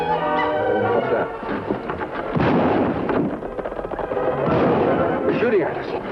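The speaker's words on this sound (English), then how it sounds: "They're shooting at us. Get down. Shots sound like they come from over ridge." Gunfire echoes from over a ridge in an old Western radio drama, heavy rolling booms mixed with bursts of cracks throughout, loud and reverberant, with voices mixed in.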